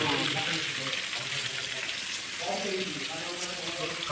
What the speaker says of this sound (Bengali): বাহ, আমাদের চিংড়িগুলো ফ্রাই করে নেওয়া হচ্ছে।